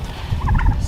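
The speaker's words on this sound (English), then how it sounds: "Stalker turkeys." A short burst of turkey gobbling rings out over a low rumbling background, a quick rippling series of calls lasting under a second.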